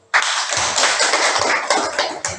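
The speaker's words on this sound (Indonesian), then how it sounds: "mari kita berikan tepuk tangan yang untuk kelompok 1" A classroom group applauds a student group: a short, dense burst of clapping from many hands that stays loud and close throughout.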